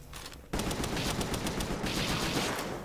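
Rapid assault rifle fire in the video game Palworld, a dense loud burst of shots starting abruptly after a quieter lead-in and continuing steadily to the end.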